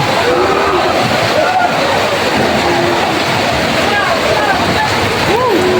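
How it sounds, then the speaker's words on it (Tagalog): Steady, dense heavy rain pours down without a break at a cattle market in Padre Garcia, Batangas, with faint background voices and scattered high chirps under the downpour. "Lumakas na yung ulan."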